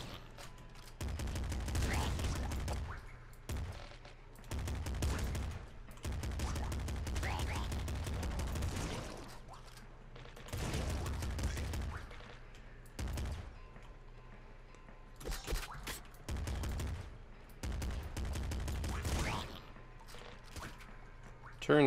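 Repeated double shotgun blasts in the top-down shooter Nuclear Throne, fired in loud close bursts against rats, separated by brief gaps, with background game music underneath.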